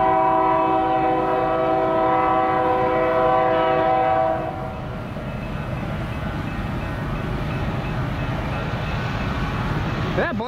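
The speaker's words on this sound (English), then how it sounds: "I got a westbound UP approaching." A westbound Union Pacific train sounds its horn loudly for several seconds, then the rumble and rhythmic clatter of rail cars continue as it draws near.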